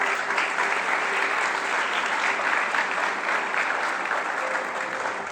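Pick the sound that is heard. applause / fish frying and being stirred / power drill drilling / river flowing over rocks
applause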